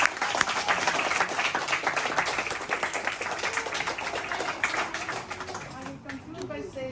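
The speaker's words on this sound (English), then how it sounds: "Please give them a big round of applause for everyone." Audience applause at a school reading competition, steady dense clapping from a crowd throughout, fairly loud and continuous, thinning slightly toward the end.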